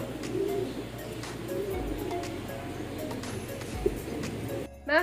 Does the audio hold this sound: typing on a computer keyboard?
no